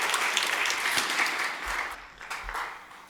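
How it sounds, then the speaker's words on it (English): Applause from the audience at a spoken word event in Toledo, a dense, steady burst of many hands clapping that gradually thins and fades over a few seconds. "Please give yourself a big round of applause."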